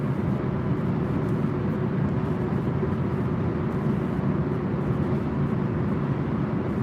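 A car rolls along on a nighttime highway drive from Cleveland to Whitehouse, with a steady, unbroken low road and engine drone filling the cabin.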